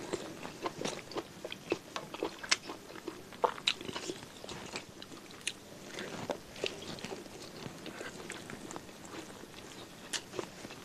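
Beef tongue being chewed up close during a mukbang, with wet bites and crunchy chewing that come in irregular bursts over a quiet background.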